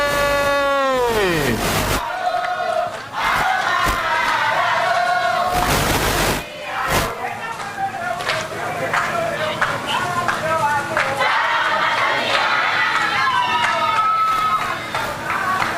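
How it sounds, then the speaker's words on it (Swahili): A large crowd at an honorary degree ceremony for Tanzania's President Samia cheers loudly, with long ululating trills, shouts and applause rising and falling close by throughout. "naomba tupige makofi mengi na vigelegele"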